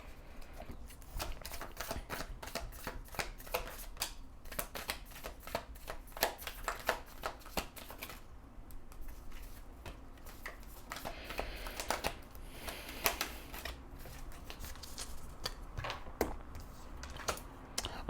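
Tarot cards are shuffled over and over in quick, soft riffling flutters and taps, continuing steadily at a fairly quiet level.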